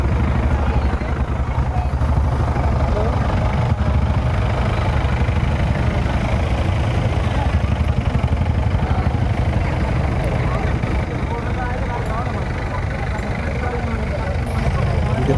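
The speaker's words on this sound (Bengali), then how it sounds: "দেখুন টোটো বাইক চারিদিকে জাম হয়ে গেছে, টোটো বাইক তারা ঠিকমতো যেতে পারছে না" Crowded traffic jam of e-rickshaws and motorbikes on a market road: a steady, dense rumble of idling engines fills the scene throughout, with a person speaking over it.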